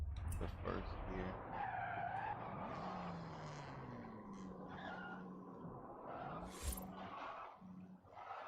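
A car drifting in the video game Forza Horizon 5, with repeated tire skid squeals and a revving engine rising and falling at moderate level, while a voice talks faintly underneath.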